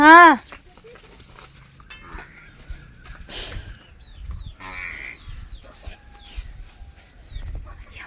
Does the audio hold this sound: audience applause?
no